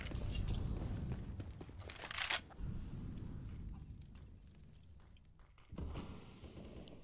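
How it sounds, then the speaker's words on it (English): Flashbang and fire grenade detonating in a competitive collegiate shooter match: a sharp, loud burst about two seconds in and another thump near six seconds, both over a dense wash of game noise. "Throw it fire. Flashbang."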